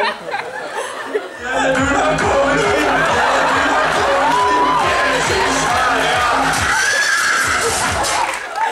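Horses of Rohan neighing and whinnying in a battle-style sound effect, several loud overlapping neighs over steady hoof clatter and a crowd-like din, continuous after a quiet start.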